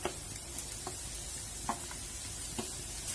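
Continuous loud sizzling of onions and green chili frying in hot oil for bread samosas, with occasional soft pops and clinks of stirring.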